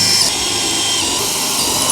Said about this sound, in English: we're going to drill a 1/4-inch hole through the floor and then into the metal of the van